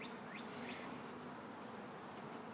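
Honeybees hum in a continuous close buzz inside a top bar beehive, a soft, steady drone with a few individual bees passing nearer.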